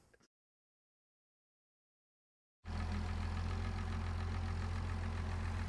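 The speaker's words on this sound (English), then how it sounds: "Like Paul's tractor, half the tractors in Vermont don't have roll bars." After a stretch of silence, a farm tractor engine on a Vermont farm idles loudly and steadily up close, a continuous low rumbling chug with no voices.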